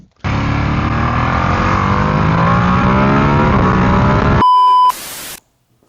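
A 2025 Ducati Streetfighter V2S engine revs hard and close, its pitch climbing steadily for about four seconds before stopping abruptly. A short electronic beep and a burst of noise follow.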